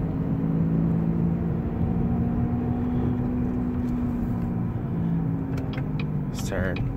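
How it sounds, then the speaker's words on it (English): A 2011 Chevy Malibu with a bad wheel bearing while driving: a steady low droning hum and rumble under continuous road and engine noise from inside the car, with a voice talking briefly near the end. "I'm going to show you what a bad wheel bearing sounds like."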